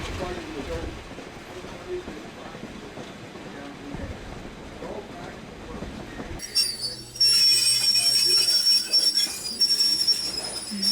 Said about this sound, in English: The train right now is slowing because he's waiting for another train to get out of the way